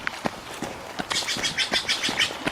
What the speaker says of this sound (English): even the birds are laughing at us